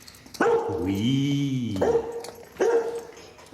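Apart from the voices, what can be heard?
dog barking and whimpering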